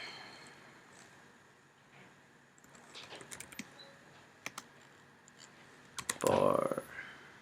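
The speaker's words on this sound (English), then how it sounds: "if you type google.com and just type chocolate" Soft keyboard typing on a Windows 8 computer, a scattered run of light clicks and taps in the middle, with a louder cluster of key presses near the end, all fairly faint against a quiet room.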